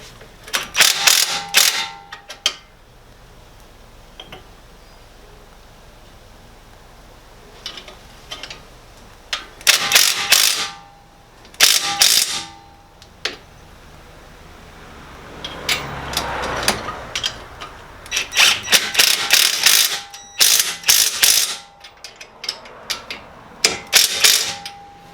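A ratchet tightens the CV shaft nut on a 2005 Subaru Forester in repeated bursts of rapid clicking, separated by quiet pauses, close and fairly loud.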